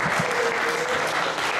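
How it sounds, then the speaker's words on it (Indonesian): A crowd at an Indonesian contemporary art discussion forum bursts into dense, steady applause, close and sustained for the whole stretch, with a faint voice briefly audible beneath. "Tepuk tangan."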